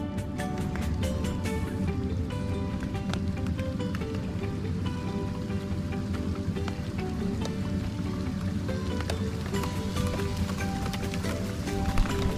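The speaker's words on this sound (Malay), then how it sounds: "Nampaknya hujan guys. Hujan di tengah laut." Steady heavy rain falls at sea around a fishing kayak off Malaysia, a dense, even hiss and patter of drops on water and the hull throughout, close and constant.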